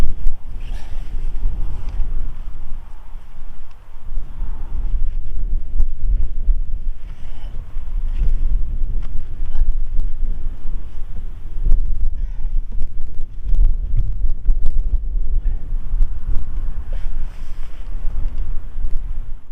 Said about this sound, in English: the wind is picking up a little bit now